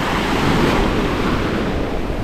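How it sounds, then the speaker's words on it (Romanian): Sea waves breaking at a beach in Guraidhoo, Maldives, on a rough, agitated day: a continuous loud wash of surf mixed with wind buffeting the microphone, with no voices. "Sunt valuri destul de măricele."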